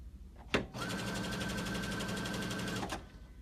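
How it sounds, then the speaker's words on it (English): A Sophia sewing machine with a DC motor starts with a click and at once settles into a steady, fast mechanical whir. The stitching rattles evenly for a little over two seconds and then stops cleanly. Close and clear, with no talking. "I'm going to start sewing on the Sophia. It immediately began sewing."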